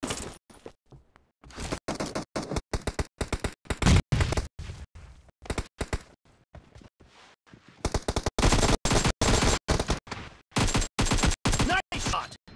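Rapid, sharp AKM rifle shots in a video game ring out in short bursts and longer strings of automatic fire, with brief quiet gaps between the volleys.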